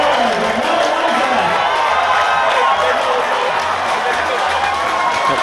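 A rugby crowd at the 2019 Grand Final between Tupapa Panthers and Ngatangiia Sea Eagles roars loudly and continuously, a dense wash of cheering and shouting with a commentator's voice running beneath it.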